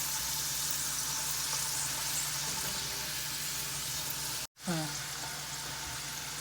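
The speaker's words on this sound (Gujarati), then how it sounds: "આ ધીરા તાપે થાય છે થોડી વાર લાગે છે અને ગુલાબી રંગની થાય ત્યાં સુધી રાખવાની છે" Homemade McDonald's-style french fries frying in oil over low heat make a constant, bright sizzling hiss, broken by a brief dropout, with a voice faintly present near the end.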